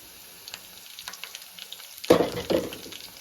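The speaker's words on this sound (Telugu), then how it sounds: "ఇది కూడా బాగా వేగాలండి ఒక రెండు ఉల్లిపాయలు అనేది బాగా వేగింది" Onions and green chillies fry in a pan for a bamboo shoot curry. A quiet background gives way to a loud, crackling sizzle surge near the end, followed by a second burst.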